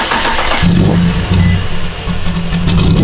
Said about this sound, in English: Startup of me actually starting up the car.